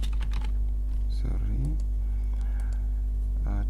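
Keys clatter on a computer keyboard in short bursts of quick taps, close by, over a steady low hum, with a few scattered clicks between the bursts.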